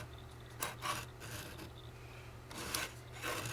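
The blade of a Lucy Clay Mini Slicer rubs noisily against its housing, giving soft, repeated rasping scrapes in short bursts at close range, with quiet stretches between.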